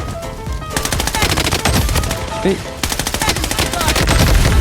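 An M4A1 with the Venom skin in the shooter game Blood Strike fires long rapid automatic bursts, close and loud, with brief pauses between strings of shots.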